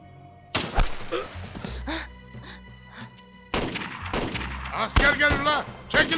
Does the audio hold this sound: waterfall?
no